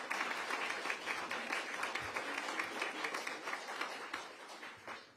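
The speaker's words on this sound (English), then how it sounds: "Can we give Michael a round of applause?" An audience applauds steadily for an architect at a campus event, a dense sustained wash of clapping at moderate distance that holds throughout and tapers slightly at the end.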